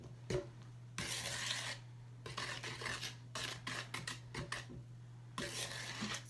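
A spoon scrapes and stirs peanut butter cookie dough in a bowl, producing several bursts of rasping, clinking mixing strokes separated by short pauses, close and moderately quiet over a steady low hum.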